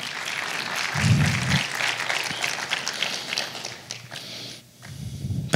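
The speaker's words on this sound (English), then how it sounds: "Yes, you can clap your hands." A church congregation clapping during a sermon: dense, continuous group applause fills the room at an even level, with a low rumble underneath and a short dip near the end before the clapping picks up again.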